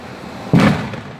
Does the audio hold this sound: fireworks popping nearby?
yes